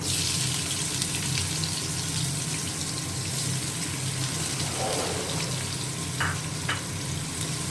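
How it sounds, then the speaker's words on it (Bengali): Sliced onions fry in a pan of hot oil with black cumin seeds, giving a steady, close sizzle that runs the whole time with a few faint clinks of a spatula. "পেঁয়াজটা হালকা করে ভেজে নেবো"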